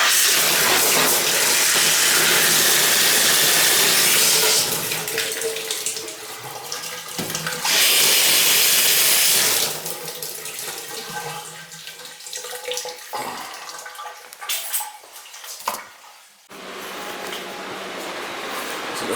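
Water gushes loudly from a faucet after the supply to a handicap sink is turned back on, with strong hissing bursts that surge, cut off and return, then sputter and fade into quieter trickles.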